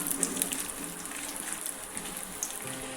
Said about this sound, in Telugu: నెయ్యి వేడయ్యాక డ్రై ఫ్రూట్స్ అన్నీ వేసుకోవాలండి